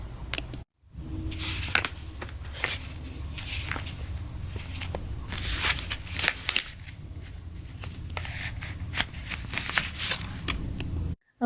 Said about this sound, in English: For this fabric, I am using a very sharp scissors in order to cut it and get a nice even cut.